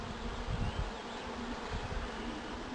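Honey bees hum in a dense, steady drone around an opened hive on a cool spring morning, close by and continuous, with no voices.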